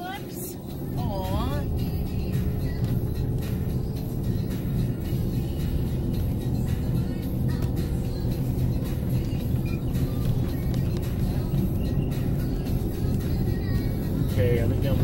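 Steady low road rumble and engine drone from inside a moving car, continuous at a constant level for the whole stretch, with other sounds layered faintly over it.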